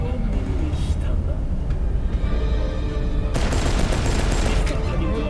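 Gunfire breaks out in a shopping area within a Cyberpunk 2077 in-game TV show, rapid bursts and a loud fusillade rising midway, mixed with crowd noise and talking.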